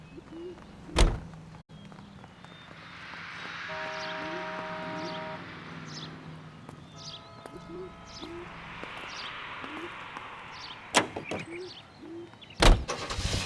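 A car drives in the video game L.A. Noire: a low engine rumble and swelling road noise rise and fall, with a few sharp knocks and steady background tones. Nobody speaks.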